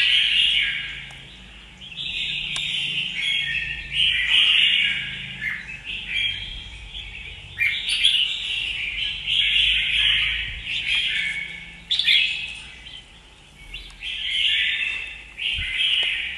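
A caged red-whiskered bulbul (chào mào) sings in repeated bright chirping bursts, loud and close, with short pauses between phrases and no talking.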